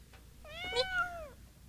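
A single kitten meow, short and rising then falling, close and fairly faint against a low background hum.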